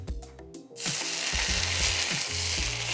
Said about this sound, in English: now I'm ready to do the scallion and sizzling oil